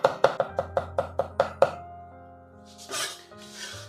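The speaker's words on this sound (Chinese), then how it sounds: "然后给它剁成蒜末" A cleaver minces garlic on a cutting board in nine quick, evenly spaced chops. A short pause follows, then a couple of soft scraping rustles.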